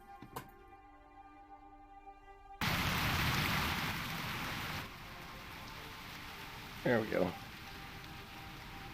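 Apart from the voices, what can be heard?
rain falling in the video game Turtle WoW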